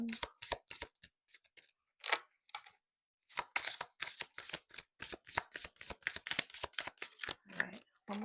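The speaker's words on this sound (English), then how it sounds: "All right, one more shuffle." Tarot cards riffled and shuffled in quick crisp bursts, a short pause partway, then a long run of rapid snapping flutters close to the mic.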